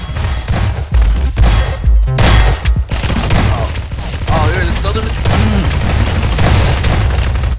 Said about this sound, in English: shoot the lamppost